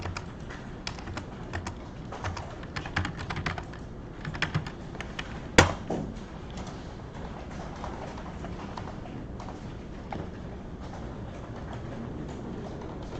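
Fingers type a command on a computer keyboard, a quick run of light clicks and key taps with one sharp louder clack partway through, close and moderately quiet.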